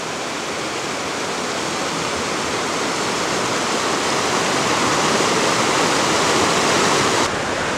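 A mountain stream near Lincoln, New Hampshire rushes steadily past, a loud, constant broadband wash of flowing water close by, with no voices.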